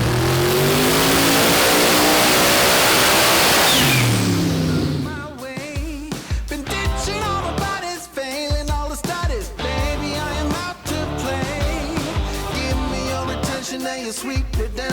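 A turbocharged Torana roars hard from a standstill toward 260 km/h in under 4.5 seconds, a loud, dense, rising engine blast for about five seconds before music takes over.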